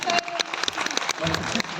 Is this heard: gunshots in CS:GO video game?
no